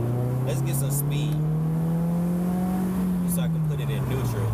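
A Scion tC with a manual gearbox rolls downhill in second gear, its engine holding a steady, loud low hum from inside the cabin that rises slightly in pitch, then eases back as speed builds.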